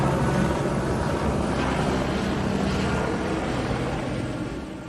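Steady, loud helicopter rotor and engine noise over the Guadalupe River during Texas Hill Country flash flood rescues, a broad droning roar that begins fading slightly toward the end.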